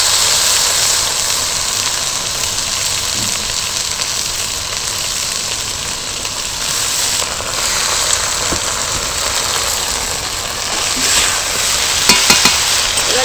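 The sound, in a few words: mung dal and ridge gourd being stirred and fried in a pan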